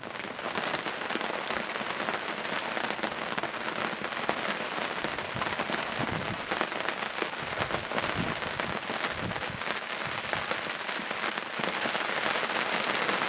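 Steady rain falls on a turkey hunting blind during an archery hunt, a dense, constant patter of drops on the cover that runs without a break and with no voices.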